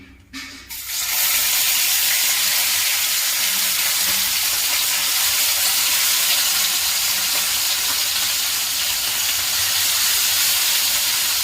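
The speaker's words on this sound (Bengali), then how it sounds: "এবার আমি মাছগুলোকে ভেজে নেব" Turmeric-and-salt-rubbed bata fish dropped into hot oil in a kadai, bursting into a loud, continuous sizzle and hiss that holds steady after a brief clatter at the start.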